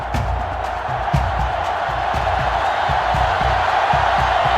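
A stadium crowd roars in NCAA Football 2005, a dense, steady wash of cheering and noise with faint thumps, staying loud and even throughout.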